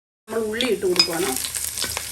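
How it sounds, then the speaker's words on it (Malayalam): Onion frying in hot oil with fenugreek and mustard seeds for a mango pickle, a brief wavering tonal sound at first, then a steady close sizzle and crackle. "അപ്പോൾ ഉള്ളി നന്നായിട്ടൊന്ന് മൂപ്പിച്ചെടുക്കണം"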